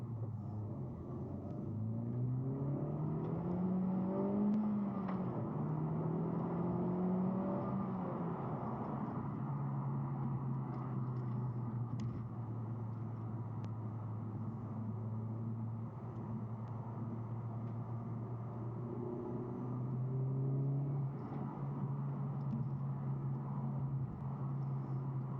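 Steady engine drone from a 2017 Honda Civic Type R cruising on the road, with rising and falling pitch as it shifts through gears and a constant low rumble throughout.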